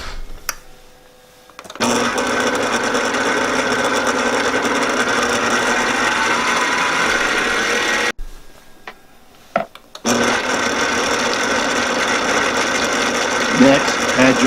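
An electric mixer blends softened butter into almond crunch cookie dough, a steady loud whir running for several seconds, pausing briefly, then starting again.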